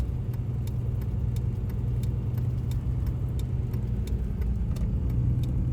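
A CASE 9240 combine driving down a road, its engine giving a steady, close mid-pitched drone with a faint regular ticking, constant in loudness from start to finish.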